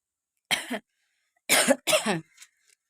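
Three dry coughs from someone with a cold, up close: one single cough, a pause, then two in quick succession, with a faint throat sound after.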